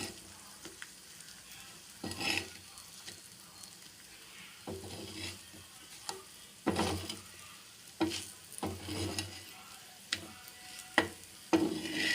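Raw banana slices shallow-frying in a pan and being turned over, a low steady sizzle broken by occasional scrapes and clinks of the spatula, quiet and close.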